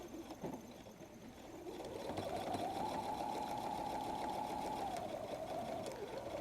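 A sewing machine stitches a messenger bag pocket flap, its motor running in a steady, moderately quiet hum that rises slightly in pitch once sewing gets going and continues to the end.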